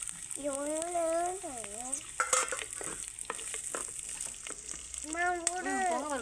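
Onions frying in a pan, giving a steady sizzle and scraping stir strokes, with a voice speaking at the start and end over the cooking noise.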